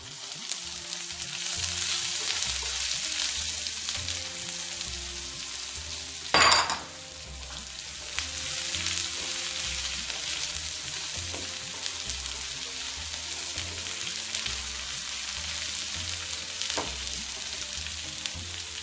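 Onions sizzle steadily in a hot pan while strawberry pachadi is cooked, with a brief louder burst of stirring partway through before the even frying hiss resumes.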